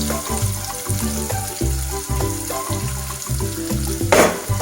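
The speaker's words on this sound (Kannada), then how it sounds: "ಮೊದಲಿಗೆ ಆನಿಯನ್ನ ಹಾಕ್ಕೊತಾ ಇದ್ದೀನಿ." Onion added after garlic to a frying pan for vegetable pasta, giving a steady close sizzle with repeated rhythmic clatter and a short burst of stronger sizzling near the end.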